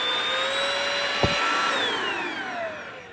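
A PERSAVE P70 cordless vacuum cleaner runs on its own with a steady high whine, its pitch falling as the motor spins down after the trigger is released, with a brief click partway through.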